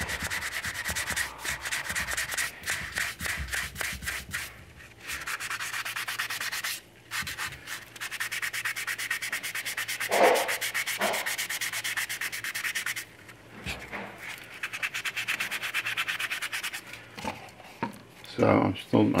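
Sandpaper rubbing over primer on a 1/6 scale vinyl figure kit, working the legs: a steady rasping scrub, close and continuous, briefly pausing a few times, with someone talking over it.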